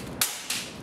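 A BB gun fired at a car fog light lens, giving a sharp single crack followed by a second smaller impact snap about a third of a second later, close and loud over a steady outdoor background.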